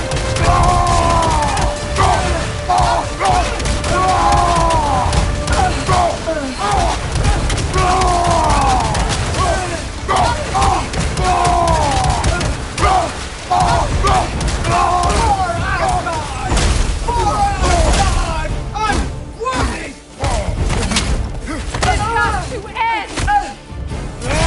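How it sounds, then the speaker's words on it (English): Sigil magic blasts in God of War Ragnarok land as dull booms and thuds inside a constant, loud battle din, while voices shout and talk over the fighting throughout. "It's sigil magic!"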